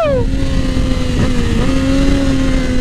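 A Triumph Daytona 675R sport motorcycle engine revs up, holds a steady high tone and then climbs again, loud and close.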